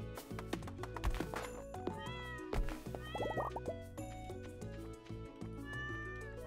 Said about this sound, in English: Cat's just meowing because it can